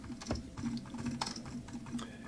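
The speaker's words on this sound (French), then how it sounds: "Je peux taper tout de suite." Quick, irregular key clicks from a rechargeable wireless Bluetooth keyboard paired to a tablet, close and soft, with a few sharper taps among a light patter.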